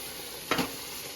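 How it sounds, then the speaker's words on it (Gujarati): Spices sizzle in hot oil as a tempering for moong dal. A steady frying hiss runs throughout, with one short, louder burst of sizzling near the middle. "મસાલો વઘારવાનું કામ આવે મસાલો હમણાં આપણો વઘરી જશે"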